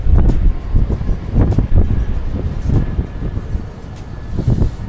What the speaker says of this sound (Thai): แล้วก็มี ลมแรงด้วยครับ